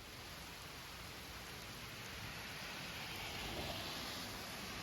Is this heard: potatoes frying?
no